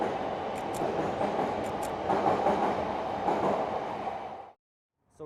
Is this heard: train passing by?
yes